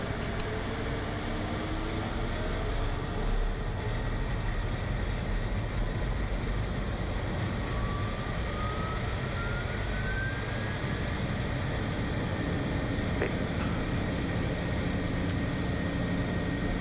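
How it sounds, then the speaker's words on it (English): Piper PA-46 Meridian turboprop running after a start on ground power, a continuous loud roar and whine with faint shifting tones, heard steadily from close by without talk. "using the GPU is that the engine spools up much faster, and therefore the start is a lot cooler than a battery start"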